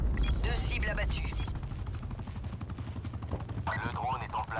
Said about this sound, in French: TACOM, déployez un hélico.